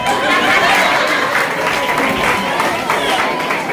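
An audience at a motivational speech and achiever celebration claps in a continuous, dense roar of applause, with a few scattered laughs and murmurs mixed in.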